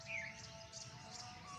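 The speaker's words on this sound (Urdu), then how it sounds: "اور چھوٹی چھوٹی یہ چڑیوں کی آوازیں" Small sparrows chirp outdoors around a Pakistani railway station, a few thin high tweets rising over steady low background rumble and insect-like hiss, moderately faint and with no talking.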